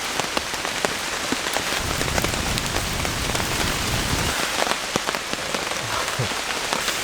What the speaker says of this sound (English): Now, this rain's not going to stop anytime soon.